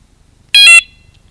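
A Tech7 125dB motorcycle alarm gives a single short, loud, shrill electronic chirp lasting about a quarter second, close by, with near silence before and after.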